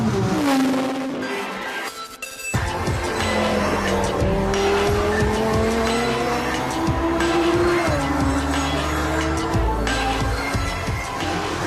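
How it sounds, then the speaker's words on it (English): A Lamborghini Sesto Elemento's 570 horsepower V10 screams hard out of a turn, loud and close, its pitch climbing through gear changes after a brief tire squeal and skid, with no talking over it. "570 brake horsepower V10 just catapults it"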